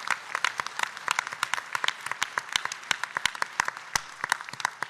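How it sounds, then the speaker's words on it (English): An audience at a PAX East 2019 convention panel gives a sustained round of applause, many hands clapping densely and steadily throughout, with no talking over it. "please give yourselves a round of applause"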